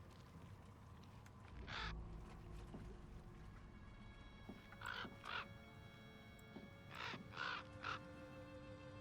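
In a dark deckbuilder game, a bird gives a few hoarse, crow-like caws, one alone and then two close pairs, faint against a low ambient drone.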